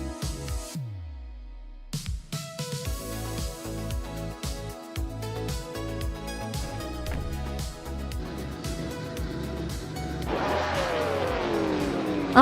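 Race cars at Atlanta Motor Speedway roar off the line at the start of a race, dense layered engine noise with revving and passing cars, rising to a loud high-pitched howl of accelerating engines near the end.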